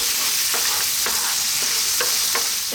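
Black raisins frying until brown for an Arab-style biryani, a constant loud sizzle broken by regular scraping stirs in the pan about every half second.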